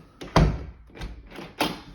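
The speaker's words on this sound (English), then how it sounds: "Rear right bedroom closet door." A rear bedroom closet door in a house under inspection is worked up close, giving three distinct knocking thuds and latch clicks spaced unevenly over two seconds.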